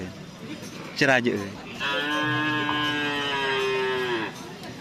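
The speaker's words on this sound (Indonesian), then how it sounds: "Ini sapi yang kecil." A small cow gives a long, loud, drawn-out moo close by, preceded by a brief rising call, with faint background murmur from people nearby.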